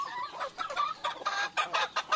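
Pet chickens eating feed, clucking in quick short bursts close by, several birds overlapping in a busy chatter.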